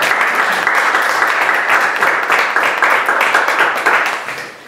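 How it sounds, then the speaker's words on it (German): Sustained audience applause at an evening discussion event, dense and even throughout before tapering off at the close. "Sie können auch natürlich einen Applaus."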